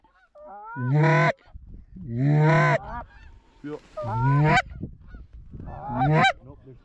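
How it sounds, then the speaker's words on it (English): A flock of geese flies over a plowed corn field during a hunt, giving four loud, close bursts of overlapping nasal honks separated by short pauses. "There's so many geese everywhere. Huge flock coming to our left."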